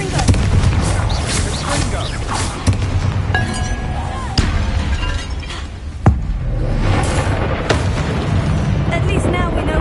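Repeated booming blasts of the Confringo fire spell in Hogwarts Legacy, loud sharp bursts with crackling debris recurring every couple of seconds over a dense rumbling game soundscape, with a voice speaking in between.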